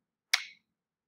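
A single sharp tongue click, crisp and close, with a quick bright attack that fades within a fraction of a second, alone in silence.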